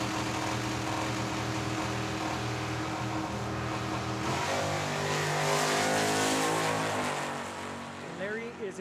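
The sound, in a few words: drag race: 1970 Chevelle and Z28 launching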